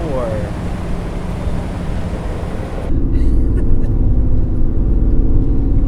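Steady road rumble from inside a car driving on the highway, with the low engine and tyre drone growing heavier partway through and continuing without pause.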